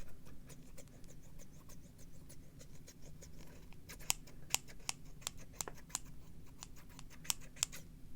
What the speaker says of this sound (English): I got new scissors because the other ones were a little sticky